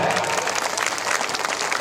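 An audience at a Dhamma conference breaks into vigorous applause, dense and steady clapping that fills the whole moment without pause.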